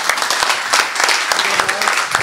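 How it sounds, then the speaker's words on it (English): Warm applause from an audience at a hackathon's final pitch presentations, steady dense clapping throughout, fairly close and loud, with no talk over it. "Give them a warm applause."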